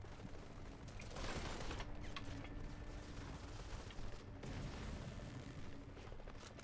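Gunfire in an MC5 (Modern Combat 5) PC multiplayer 5v5 match, a steady clatter of mechanical weapon noise with dense bursts running throughout, mid-level and continuous.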